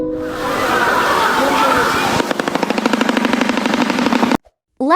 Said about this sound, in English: Now the sound of the showbill.